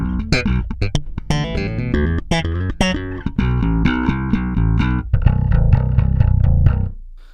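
Electric guitar played through a compressor pedal with its input gain turned up to about three o'clock and the amp master lowered, giving a saturated tone: quick plucked notes and short phrases, then sustained ringing chords, loud and close.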